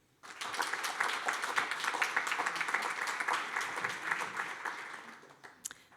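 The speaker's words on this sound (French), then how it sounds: "Vous pouvez les applaudir." Audience applause at a public debate event, a steady burst of clapping lasting several seconds before tapering off, moderately loud and heard on its own without talk.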